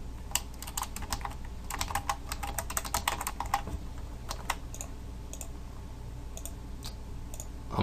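Typing on a computer keyboard while writing code: quick irregular key clicks in dense bursts, quiet and close, thinning out to occasional taps toward the end.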